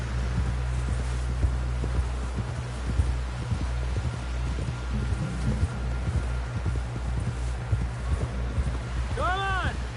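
Horse hooves clip-clop steadily on the ground in the video game Red Dead Redemption 2, a close, continuous rhythmic patter with a low ambient hum, ending in a brief whinny.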